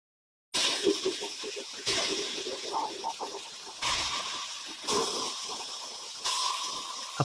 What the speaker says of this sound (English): The main frame is stripped, treated for rust, and sprayed with anti-rust primer.